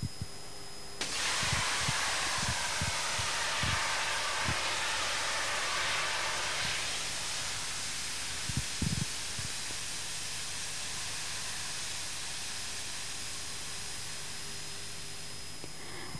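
A CO2 extinguishing system discharges into a cabinet fire of mixed petrol and diesel oil, a sudden loud broadband hiss that holds steady for many seconds, with a few low thumps and knocks beneath it.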